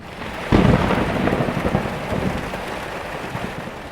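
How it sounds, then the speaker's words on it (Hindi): A heavy crack of thunder rolls into a steady downpour of rain, loud and close, continuing throughout. "अचानक से तूफान और बारिश शुरू हो गया"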